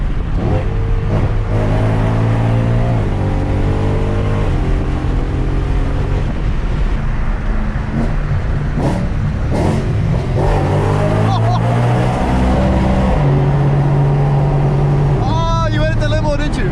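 An E92 BMW M3 engine revs hard toward redline, climbing steadily in pitch toward a high scream with brief drops between gear pulls, loud and close, with voices talking over it.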